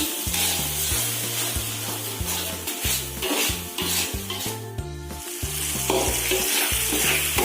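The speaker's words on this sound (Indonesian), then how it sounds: "Kita tumis bumbunya sampai harum." Spice paste for Betawi ketupat sayur sautés in a pan with a steady close sizzle, while a utensil stirs and scrapes against the metal in repeated rhythmic strokes; no voices.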